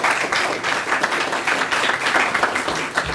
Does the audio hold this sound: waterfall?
no